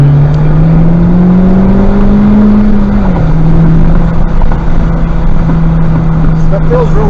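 A Honda Civic Type R engine drones loudly from inside the car on a race track, holding a steady tone under acceleration. The pitch climbs gently, dips once and then settles, with constant road and wind rumble.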